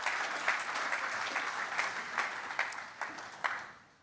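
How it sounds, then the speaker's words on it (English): Moderate applause from a seated audience welcomes a guest to the stage, steady clapping with a few louder claps standing out, fading away toward the end. "Round of applause."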